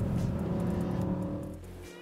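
A Mercedes accelerates at speed on a track, its engine a steady loud harmonic drone heard from inside that fades and drops away near the end.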